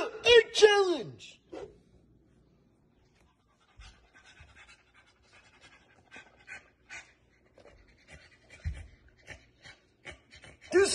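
A dog pants quietly in short rhythmic breaths near the listener, after a burst of loud voices at the start and with more talk toward the end.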